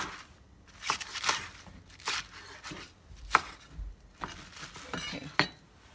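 A knife slices napa cabbage finely on a cutting board for a fish congee, about a dozen sharp, uneven chops, close and fairly quiet with short pauses between strokes.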